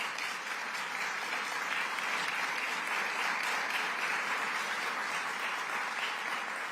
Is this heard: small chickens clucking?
no